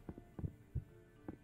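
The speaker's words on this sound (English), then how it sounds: "Heartbeat. Audible heartbeat." Heartbeat sound effect in the video game Escape Academy, with several soft low thumps spaced roughly evenly in a quiet, throbbing pulse and no voices.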